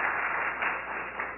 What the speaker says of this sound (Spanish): Lo que me gustaría ahora pediros es el primer aplauso para ustedes por venir aquí